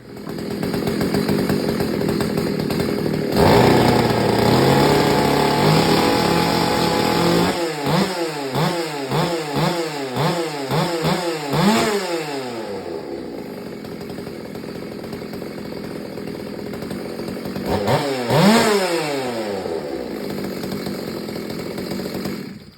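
Chainsaw engine running loud and close for ignition timing checks, holding a steady idle and then revving in repeated sharp bursts that fall away, with one more rev surge near the end.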